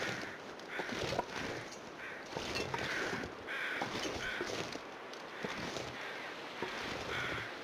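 Crows caw repeatedly in a snowy wilderness by an isolated house in the survival game The Long Dark, with harsh calls recurring every second or so at moderate distance over a steady ambient hiss.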